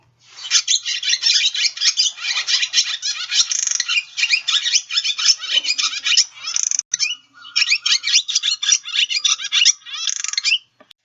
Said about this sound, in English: that song is kind of the vit, vit, wit, wit, vit call with clicking incorporated